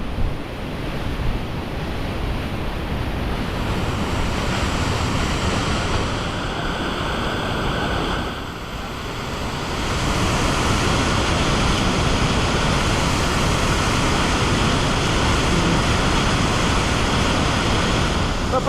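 A shallow brown river rushes with a continuous loud broadband roar of water, steady throughout with a slight dip and swell midway.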